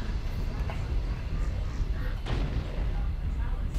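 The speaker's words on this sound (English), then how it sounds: "Airstrike activated." Airstrike explosions in a mech combat video game during a 1v1 tournament final, heard as a dense, continuous rumbling barrage of booms with one sharper blast partway through, talk running throughout.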